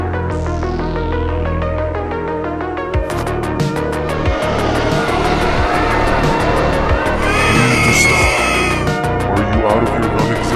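A vehicle in the Garten of Banban 7 video game skids and crashes loudly, with engine roar, rapid rhythmic thumps and a screeching burst near the end, close and continuous over game music.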